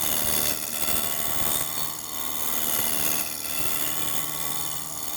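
Spindle roughing gouge cutting wood on a lathe while turning a mortar and pestle, a steady rough whirring and scraping hum of the spinning workpiece, loud and continuous with slight swells, no talking.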